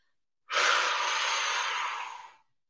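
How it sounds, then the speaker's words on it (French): A single long inhale during a Pilates exercise, a breathy airy rush that starts abruptly, holds steady for about two seconds and fades out, close and clear against silence. "Inspirez encore une fois."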